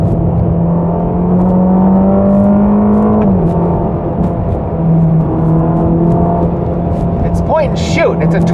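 A Ferrari Roma's twin-turbo engine pulls hard under acceleration, its drone climbing in pitch and then shifting, loud and close inside the cabin, while someone talks over it.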